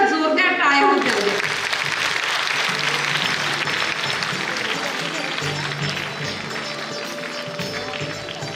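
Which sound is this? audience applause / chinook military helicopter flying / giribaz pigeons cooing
audience applause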